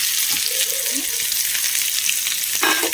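Chopped onion fries in hot oil for an instant mango side dish, a close, bright sizzle with a few soft stirring scrapes and a brief clatter near the end, steady and unvoiced.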